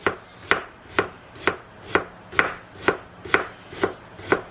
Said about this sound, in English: Then you turn it and you slice it as thin as possible